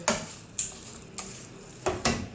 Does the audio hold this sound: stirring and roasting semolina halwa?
yes